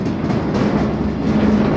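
A freight train rolls along beneath a rider in Mexico, a loud, steady rumble with faint clickety-clack of the wheels and a thin metallic squeal, and no voices.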